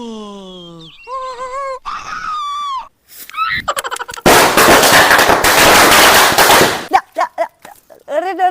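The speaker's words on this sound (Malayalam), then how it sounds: "ബോബോ പടക്കം പൊട്ടിക്കട്ടെ പടക്കം പൊട്ടിക്കട്ടെ" Firecrackers bursting during Vishu celebrations, a dense crackling run of rapid bangs lasting a few seconds, with excited voices and shouts before and after.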